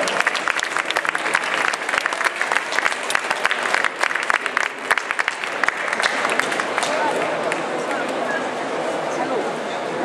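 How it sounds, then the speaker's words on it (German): Loud, sustained applause from a crowd at a comics festival, dense clapping with some sharper individual claps early on, gradually softening toward the end of about ten seconds. "Deswegen bitte einen fetten Applaus an Andrea Fiala, die das Ganze hier sehr entscheidend mit aufgebaut hat."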